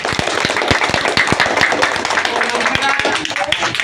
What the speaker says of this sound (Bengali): সবাই তালি দিয়ে আমরা একটা দেখছেন